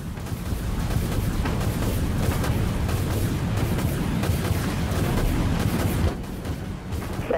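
Missiles strike ships in the Dreadnought space combat video game, a dense, loud barrage of rumbling booms and blasts that roll on continuously and overlap, with a brief lull near the end.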